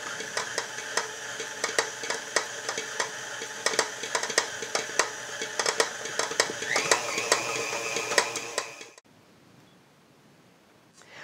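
A stand mixer's dough hook kneads bread dough, a steady motor whir with regular knocking thumps as the dough slaps the bowl, then the machine cuts off abruptly into near silence.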